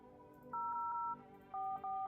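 Telephone dialing in No I'm Not A Human: several clear two-tone keypad beeps sound in short bursts over a faint background hum, close and distinct, with no voices.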